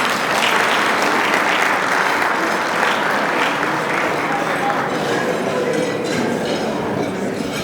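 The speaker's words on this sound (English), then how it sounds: "let's give Nicholas Paula another round of applause" A crowd at an anniversary gala applauds an honoree with sustained, dense clapping at an even level. A few faint voices sit underneath the clapping.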